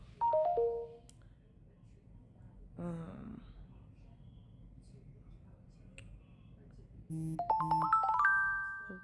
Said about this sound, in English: all these notifications coming in while I'm trying to talk